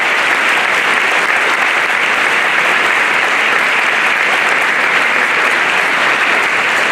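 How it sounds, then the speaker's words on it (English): A school gymnasium audience claps for elected officials at a Veterans Day assembly, a loud, dense, sustained wash of applause from a large crowd, steady from start to finish with no voices standing out. "Give them a round of applause too."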